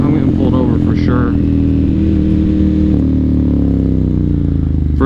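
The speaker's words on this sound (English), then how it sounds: "that was the SC Project exhaust, which sounds awesome" A motorcycle with an SC Project aftermarket exhaust revs loudly up close, pitch climbing and settling as the engine drones on.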